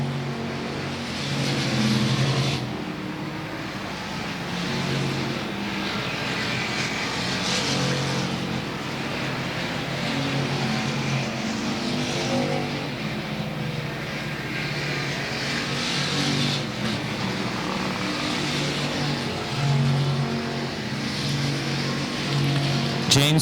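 Stock car engines roar and drone steadily around the oval at South Texas Speedway, a sustained far-off racing rumble with occasional swells as cars pass, under an announcer's commentary.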